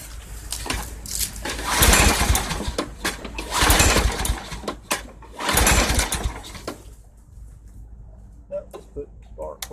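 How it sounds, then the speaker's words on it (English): A 2006 Craftsman lawn mower running on ethanol-free fuel, its engine noise rising and falling in loud surges as it mows, then dropping away, with a voice talking over parts of it. "What do you say we give it a final EOL mow?"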